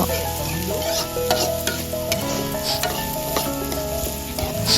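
Rice being stirred in a pan with fried shallots and oil for herbal chicken rice, a steady loud sizzle with repeated scraping strokes of the spoon throughout.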